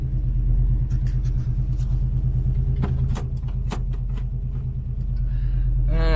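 A 1968 Ford Mustang GT Fastback on the move over dirt, its engine giving a steady, loud low rumble heard from inside the car, with faint rattles over it.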